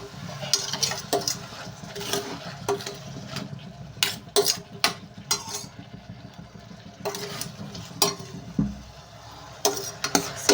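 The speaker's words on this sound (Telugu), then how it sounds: "ముక్కలు అనేది ఫ్రై అవుతున్నాయి కదండి దీంట్లో సాల్ట్ అయితే వేస్తున్నాను" Cucumber pieces frying with salt in a pan, a steady low sizzle under repeated sharp clinks and scrapes of a utensil against the pan, with no talk.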